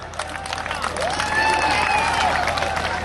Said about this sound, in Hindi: मैंने तालियां बजाने के लिए कहा था, चीखने के लिए नहीं कहा था।